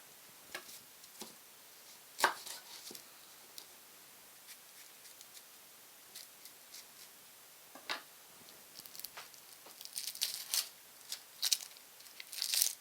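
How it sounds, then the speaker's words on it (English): Onion being cut with a knife for a two-style tofu dish: quiet, sparse clicks and taps on a board, irregular and faint, with a few sharper knocks and crisp slicing sounds, no voices. "Then we will cut onion."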